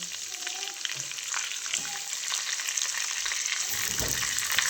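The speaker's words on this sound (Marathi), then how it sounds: "आता एक एक करून सगळी वांगी टाकून घेते" Whole brinjals dropped one by one into hot oil in a pan, a continuous close sizzle with small pops and clatters, swelling briefly near the end as more pieces go in.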